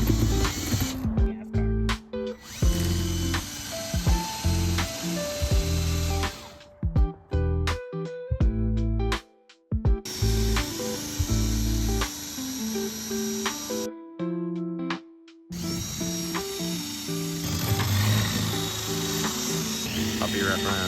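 A handheld power drill whirs in repeated bursts of varying length, starting and stopping with brief silent gaps, loud and close, while people talk around it during work on a fish rescue project.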